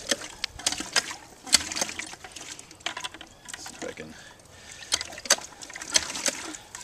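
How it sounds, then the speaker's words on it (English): A hand pitcher pump drawing well water clanks in irregular repeated strokes, with squeaks and watery gurgles between the metallic knocks. "you pour the water in the top and start pumping"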